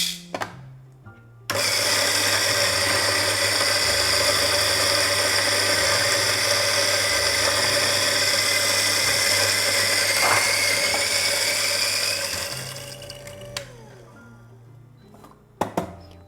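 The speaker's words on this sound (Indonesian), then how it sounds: "Untuk gilingannya aku menggunakan di nomor 1 di grinder aku. Jadi gilingan halus." A coffee grinder set to its finest setting grinds about 20 grams of beans for a Lelit Victoria PL91T espresso machine, starting abruptly with a loud, steady high-pitched whine that runs for about eleven seconds, then winds down, with a short burst at the end.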